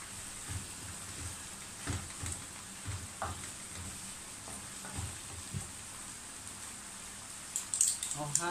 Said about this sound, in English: I'll stir it together like this